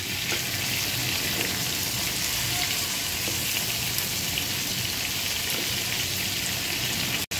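Prawns frying in hot oil, a steady, loud, dense sizzle and crackle that holds evenly throughout with no talk.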